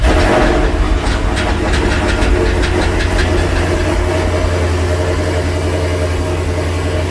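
A Dodge Charger, Challenger or 300C with its hood open cranks and starts after a fuel pump replacement, a loud steady engine roar with rattling mechanical ticks, heard close throughout with no talk.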